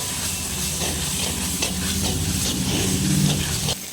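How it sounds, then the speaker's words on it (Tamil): Masala for a chicken curry fries in a pan while being stirred, giving a dense, steady sizzle and hiss, with repeated soft scraping strokes and the sizzle growing louder near the end. "நல்லா இப்போ அதை மிக்ஸ் பண்ணி விட்டுக்கலாம்"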